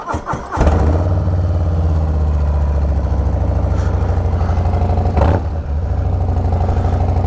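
Harley-Davidson Low Rider ST motorcycle fitted with an SPC exhaust, 2022 model, cranking briefly then firing up into a loud, close, deep lumpy idle with a short blip of throttle partway through.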